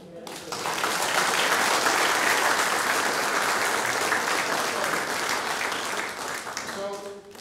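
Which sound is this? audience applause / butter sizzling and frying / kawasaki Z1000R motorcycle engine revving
audience applause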